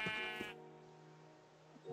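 Sheep bleating in the video game Minecraft during a hardcore survival run, a harmonic bleat in the opening half second, then a thinner sustained tone and another bleat rising at the end, close and clear with no talk.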